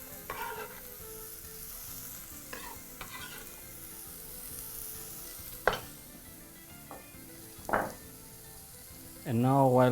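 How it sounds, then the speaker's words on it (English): Onions sweat in a pot for a beef casserole, giving a low steady sizzle while a utensil stirs and scrapes them in occasional short strokes, with a louder clatter near the end. "while allowing your onions to sweat off, proceed to continuously mix the onions in your pot"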